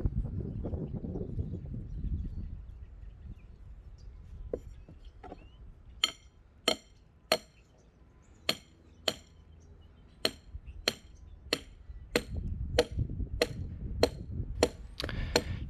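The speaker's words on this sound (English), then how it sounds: "I am now putting stakes along the outside of the form to pull the board straight." Wooden stakes are hammered along a concrete form board outdoors, sharp ringing blows landing in spaced series with brief pauses, mid-distance over light ambient noise.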